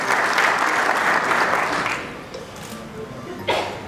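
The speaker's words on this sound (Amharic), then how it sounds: "ለራሳችሁ አጨብጭቡልን" A live audience applauds at a book launch in Ethiopia, a dense wash of hand claps that swells loud at the start, thins out midway, then surges briefly again near the end.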